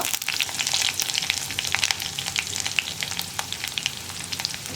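Chopped onion sizzles steadily in a hot oiled pan with dried red chillies and ginger-garlic paste for a potato beetroot masala, a loud, continuous close frying hiss broken by faint stirring clicks.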